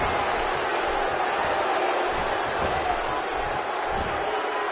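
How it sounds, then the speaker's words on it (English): Electric arena crowd noise from a WWE 2K16 wrestling match in Columbus, a steady, dense roar of cheering and voices filling the whole stretch without letup. "Columbus has become known for being an extremely electric crowd, and this one is no different."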